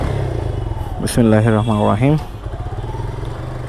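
A Suzuki Gixxer motorcycle engine starts up with a brief cranking burst, then rises into a short revving roar before settling back; someone speaks just before it.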